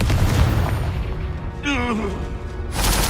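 A Confringo fire spell cast in the Hogwarts Legacy video game: a swooping, whistling tone dips in pitch, then a sharp, loud blast erupts near the end.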